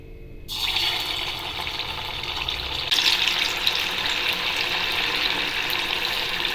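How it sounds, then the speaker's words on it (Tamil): Sweet coconut balls drop into hot oil for deep-frying, and a steady hiss of sizzling starts abruptly, then swells louder a few seconds later and holds without pause. "இப்போ இது எண்ணெயில் பொரித்து எடுத்துடலாம்."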